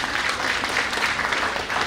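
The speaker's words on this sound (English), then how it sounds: "Please give him a big round of applause." An audience at a college India-Japan festival event in Jaipur applauds for a guest, with steady, dense clapping filling the hall for a couple of seconds.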